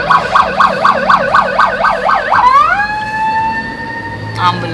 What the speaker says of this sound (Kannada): ಆಂಬುಲೆನ್ಸ್ ಹೋಗ್ತಾ ಇದೆ.